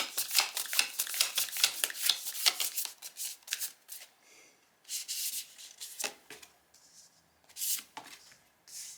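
Tarot cards being shuffled by hand during a card reading, a close series of crisp riffling bursts that come fast at first, then break into scattered, separate shuffles with quiet gaps.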